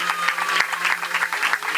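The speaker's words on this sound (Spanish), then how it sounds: "¿Cuánto dan un aplauso al Señor por eso" A church congregation applauding, dense steady clapping from many hands through a short burst, with a faint tone held beneath.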